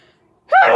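A single sudden sneeze bursts out after a near-silent pause, loud and close, short and explosive.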